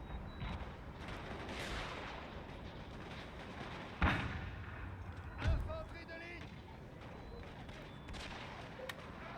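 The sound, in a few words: gunfire on soldiers in Total War: Napoleon video game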